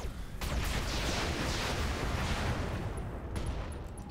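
A mech in the RogueTech video game firing all of its weapons at once, a dense, loud, continuous barrage of gunfire and explosive booms rolling on without pause.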